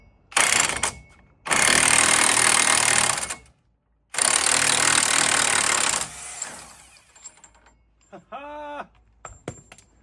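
An impact wrench loosens the wheel hub nut on a 2005 GMC Sierra during a wheel bearing job, firing in loud, sustained bursts separated by short gaps, then a softer rattling buzz as the nut spins off.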